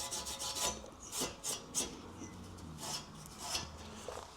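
Scraping and rubbing at old gasket residue and soot on a Yoshimura Tri Oval exhaust from a 2002 Suzuki GSXR1000 K1, heard as a series of short, close rasping strokes in an uneven rhythm with no talk.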